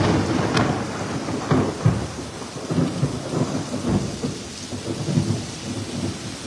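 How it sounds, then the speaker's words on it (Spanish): Heavy rain pours steadily while low thunder rumbles and cracks, a loud, close storm filling the whole stretch. "Esta buena tormenta."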